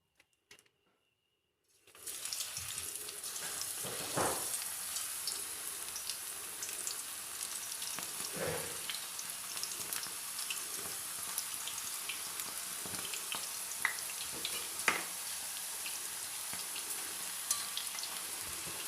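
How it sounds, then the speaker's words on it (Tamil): Tapioca chips frying in hot oil over a low flame, a steady dense sizzle and crackle that starts after a brief silence and continues close and loud with occasional sharper pops, no talking. "இப்போ போட்டு பொரிக்கலாங்க."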